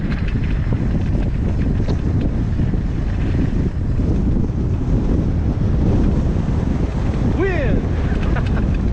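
Loud, constant wind roars across the microphone through a fast downhill mountain bike ride at Brushy Peak in Livermore, California, a steady blustery rumble with no pauses.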